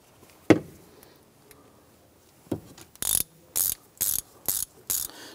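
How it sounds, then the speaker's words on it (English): Ratchet with a 15 mm socket snugging a lock nut on a 1997-2006 Jeep Wrangler shift boot, a few isolated knocks first, then a series of loud, close, crisp clicking bursts in steady rhythm. "we're using a 15 millimeter socket. You want to just snug that lock nut down into place"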